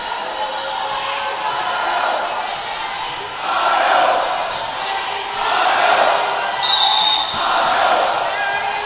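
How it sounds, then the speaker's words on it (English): At a college volleyball match between Carson-Newman and Lincoln Memorial, the crowd chants for its starting center in rhythmic swells that rise and fall several times over a steady arena murmur. "Crowd chanting for their starting center in Lauren Pickett from Milford, Ohio."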